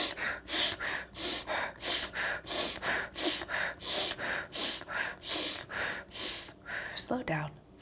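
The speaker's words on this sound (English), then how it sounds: "We're breathing inwards through our nose, out through our mouth." Paced breathing, in through the nose and out through the mouth: about fifteen even, close breaths in a steady rhythm of roughly one every half second, ending with a short sharper exhale and a brief noise.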